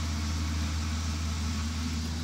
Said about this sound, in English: I love the sound of that tractor.